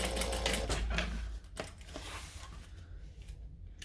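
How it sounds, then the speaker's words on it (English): A sewing machine top stitches a vinyl batwing wallet, its needle chattering in a fast, steady mechanical rhythm close by, easing slightly in the second half. "I'm going to top stitch that down."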